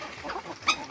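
Chickens clucking nearby, several soft clucks followed by one sharper, louder squawk, all packed into under a second.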